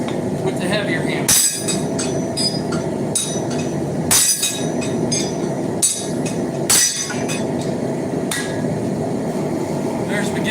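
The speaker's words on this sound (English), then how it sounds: "Mark it with the lighter hammer and greatly displace material with the heavier hammer." Hand hammers strike a horseshoe being forged into a knife, landing as sharp, ringing metallic blows at a steady, unhurried pace, with heavier hits among lighter ones against a busy workshop background.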